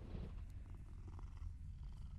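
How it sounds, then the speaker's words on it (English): A cat purrs while being petted beside a merchant in the Mortal Shell video game: a soft, continuous, low rumbling purr, quiet and close, with no talking. "You can pet the cat."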